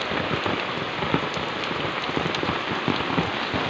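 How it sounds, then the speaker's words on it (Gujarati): Heavy rain pours down on open farm fields, a steady, dense hiss of drops drumming on the ground and surfaces, continuous and close with no other sounds breaking through. "વરસાદ ફૂલ વરસે છે"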